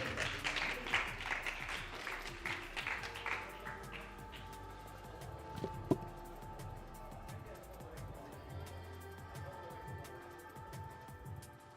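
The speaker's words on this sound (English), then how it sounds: "Give a round of applause for Aiden." Audience at an inter-school cycling esports and freestyle skills cup awards ceremony clapping for a fifth-place finisher, a burst of applause that fades after a few seconds into quieter room noise.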